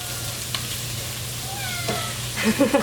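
A pet cat meowing in a home kitchen over steady background hum and sizzling, with a faint early call and clearer rising meows near the end.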